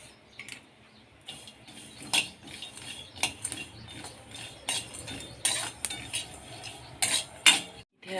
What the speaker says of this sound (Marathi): इथे साहित्य मी एक एक करून कढईमध्ये घालून घेते भाजण्यासाठी.